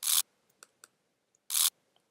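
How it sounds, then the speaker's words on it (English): A motor wind-up sound effect from the Ableton library plays as two short, bright bursts of whirring about a second and a half apart, with faint ticks between them, like a wind-up toy. "Then I have this sound, which I think is like a motor or something."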